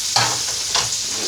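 Vegetables fry in a pan for shrimp étouffée, a loud steady sizzle with two brief stirring swells, close up and without talk.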